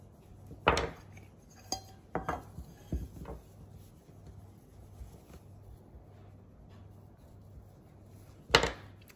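Tart mould clattering onto a work surface and pastry being cut around it, giving several sharp knocks and clinks spaced out, close and distinct over a soft background hum.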